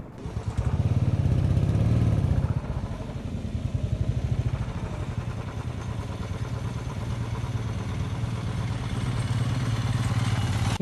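A Royal Enfield Himalayan BS6 motorcycle works along an off-road track, its single-cylinder engine thumping steadily and revving up briefly near the start, then settling into an even, close-up chugging beat.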